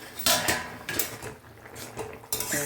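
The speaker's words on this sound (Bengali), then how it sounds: "এবার ঢাকনাটা খুলে নিলাম" A metal lid comes off a pot of jute-leaf curry with a few quick clanks and clatters, each a short ringing knock separated by brief pauses, close and fairly quiet.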